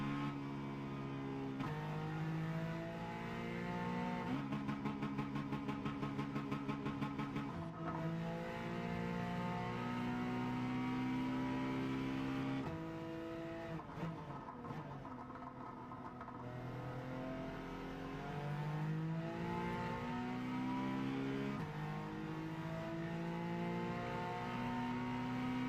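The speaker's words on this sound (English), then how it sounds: "the engine sound is going to change, the transmission sound and all that's going to happen before his hand" A drift car's engine in CarX Drift Racing holds a loud, steady drone with revs rising and falling and gear changes through a sequential gearbox, running continuously with no speech.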